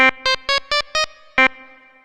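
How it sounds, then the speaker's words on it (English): Six short synth stabs from a Polyend Tracker in a quick rhythm, the last note ringing out with a lingering reverberant tail that fades slowly. "I'll add a reverb"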